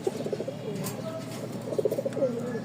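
Several domestic pigeons, feather-footed birds offered for sale, coo in soft repeated bursts close by, with faint background chatter and rustle throughout.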